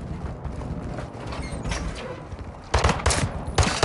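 Gunfire from a Warzone 2 (Modern Warfare II) online Invasion match, with rumbling battle ambience. Loud sharp bursts break in near the end, one after another.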